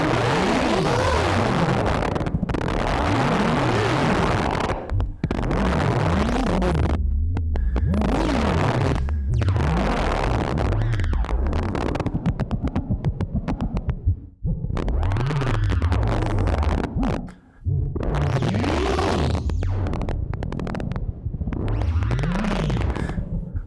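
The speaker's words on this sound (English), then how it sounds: "So I can add a little bit of reverb." A modular synthesizer noise patch run through a mixer with added reverb, producing loud, continuous throbbing drones with swooping pitch sweeps and rhythmic pulsing, broken by brief cutoffs.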